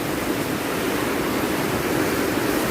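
Steady, dense roar of a flooding stream in Giresun on the Black Sea coast, loud and continuous with no pauses or voices.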